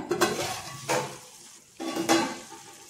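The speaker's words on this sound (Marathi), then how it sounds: "आपली आता गवार शिजत आहे" Cluster beans sizzle in a pan as a spatula scrapes through them in a few distinct stirring strokes, close and moderately loud.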